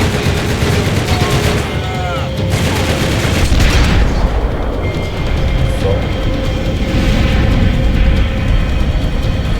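Gunfire from the video game Max Payne 3, a dense continuous barrage of shots and booms that fills the whole stretch, loud and close, with a few distorted spoken fragments mixed in.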